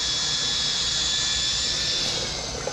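A pump runs steadily, drawing oil out of the coolers on a class 1 buggy, a continuous loud whine and hum with a faint tonal note that holds even throughout, no voices.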